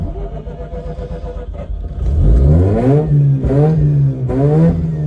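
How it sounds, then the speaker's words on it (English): A 2004 Mazda RX-8 rotary track car with idle problems cranks, catches and starts, then revs loudly in several rising sweeps close by, with a rough idle between. "Now let's start the car."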